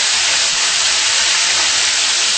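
Tomato hits a hot pan of browned garlic for mussel soup, a loud, dense, continuous sizzle and hiss, close and unbroken, with no voices.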